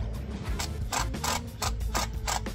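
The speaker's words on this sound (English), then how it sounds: "I'm taking the last bolt right now." A ratchet wrench cranks out the last bolt from a GM 10-speed transmission, giving a fast run of metallic clicks with short pauses between strokes, close and clear.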